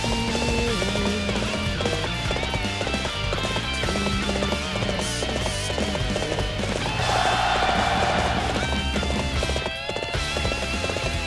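Horse hooves gallop in the Dynasty Warriors 7 video game, a rapid clip-clop beat buried under loud, dense game music that plays throughout.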